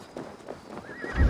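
Horse neigh and hoofbeats from the video game Assassin's Creed Valhalla during the siege of Paris, soft clip-clop steps followed by a rising whinny and a heavy low thud at the end.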